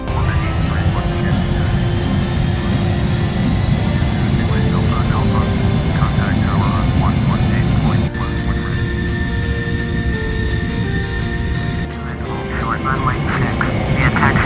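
Simulated Boeing 747-400 jet engines at takeoff power in the Flight Simulator FSX game give a loud, sustained roar with a steady whine, continuing unbroken through the takeoff roll.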